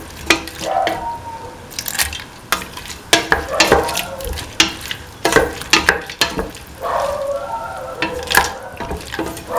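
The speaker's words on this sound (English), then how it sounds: "Saute and mix the lentil." Lentils being sautéed and stirred in a pan, with a spoon clattering and scraping in irregular strokes over a low sizzle, close and moderately loud.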